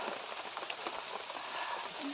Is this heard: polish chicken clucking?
no